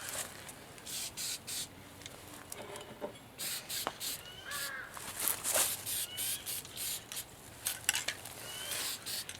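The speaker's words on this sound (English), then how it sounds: "We're going to give it a little shot of lacquer" Short bursts of lacquer sprayed from an aerosol can onto slip-on casters for a plant table outdoors, a series of hissing puffs of varying length repeating close by, with faint rattles between.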